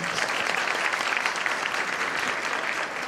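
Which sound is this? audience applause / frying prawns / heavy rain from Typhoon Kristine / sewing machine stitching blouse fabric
audience applause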